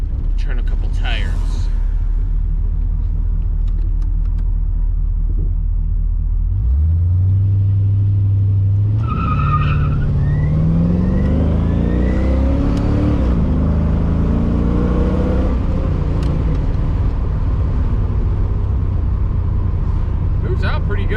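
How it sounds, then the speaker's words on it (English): A 1988 LS-swapped Firebird with a broken rear end pulling away hard, a low rumble that climbs into a loud accelerating roar with rising engine pitch, people talking inside the car throughout. "Try to turn a couple tires."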